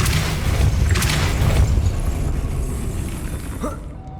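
A Depulso force spell goes off in Hogwarts Legacy, a loud close whooshing boom with a rumbling low-end body that swells for about a second and a half, then thins into a fading airy tail.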